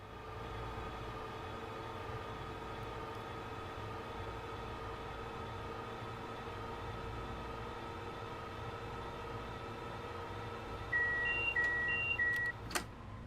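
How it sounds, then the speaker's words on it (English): Train running through a subway tunnel in Train Sim World 2, a low steady rumble and drone of track noise, quiet and continuous, with a few brief electronic beeps near the end. "So there's a little bit of track noise in this."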